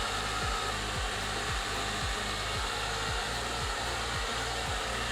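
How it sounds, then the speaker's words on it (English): A hair dryer on low, cool setting blows with a steady loud whoosh, its motor humming with a regular pulsing beat throughout. "Put it on low, hit that cool button"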